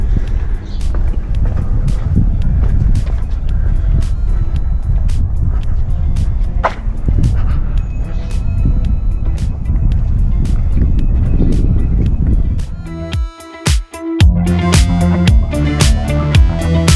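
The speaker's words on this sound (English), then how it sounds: "Wind's got up a bit, you can certainly see the sand blowing now." Strong wind roars across the sand sea at Mount Bromo in Java, a loud, continuous buffeting rush close to the microphone, broken by a brief lull and sharp gusty thumps near the end.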